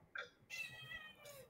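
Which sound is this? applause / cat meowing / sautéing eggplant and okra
cat meowing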